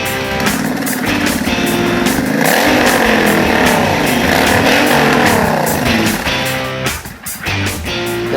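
A 1996 Suzuki Intruder VS1400 motorcycle engine rumbles loudly at close range, holding a deep steady idle with revs rising and falling and a brief dip near the end.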